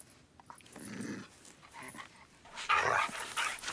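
A dog makes brief vocal sounds amid shuffling movement and background noise, with a louder burst of activity near the end.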